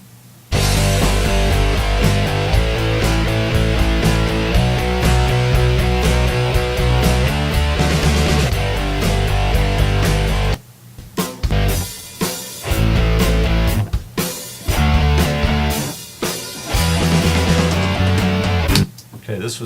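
Loud, dense electronic music demo built from a Steinberg commercial loop content set, with a steady full-band groove for about ten seconds, then choppier stop-start sections with brief gaps and hits.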